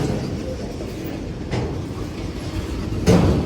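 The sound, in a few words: freight train with empty autoracks passing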